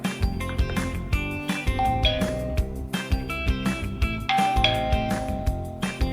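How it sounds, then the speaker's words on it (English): A HSL020 visual video doorbell plays its chime during a response test, a repeated ringing melody of bright tones that fills the whole stretch, loud and close with no talking. "This is the doorbell response test."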